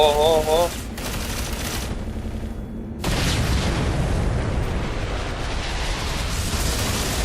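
Gunfire in the Ghost Recon video game, dense sustained bursts and booms that fill the clip loudly after a brief lull, with an overlapping voice early on.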